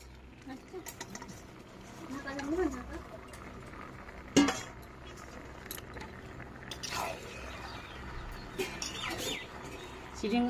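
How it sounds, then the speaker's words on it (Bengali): Shrimp being stirred in a pan with cashew paste for a Bengali potol chingri dish: irregular clinks, scrapes and soft squishes of the spoon against the pan, with faint chirps in the background. "চিংড়িগুলো দিয়েও একটু নেড়ে নেবো।"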